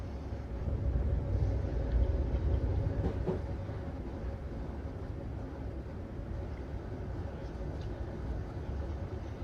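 A Class 325 train running between Hayes & Harlington and Paddington in the Train Sim 2018 game gives off a continuous low rumble and hum, holding steady throughout with no voices.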